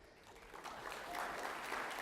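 Audience applause during a keynote talk, a faint diffuse patter of many hands in a hall that swells slightly in the second half.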